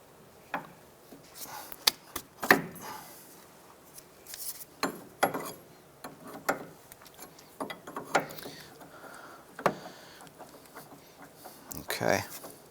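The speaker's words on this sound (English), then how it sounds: "we're going to use a 24mm wrench. I'm going to grab the lock nut here. I want to go ahead and loosen this." Metal clanks and ratcheting clicks from a 24mm wrench working a tie rod lock nut on a 2001-2007 Ford Escape steering rack, irregular bursts close by.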